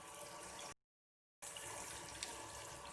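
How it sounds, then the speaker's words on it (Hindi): Water poured into a pan of masala arvi (taro root) curry, a steady broadband splash and trickle that breaks off briefly into silence midway and then resumes, close and moderately loud with no talking. "आधा कप के बराबर पानी डाल दिया मैंने।"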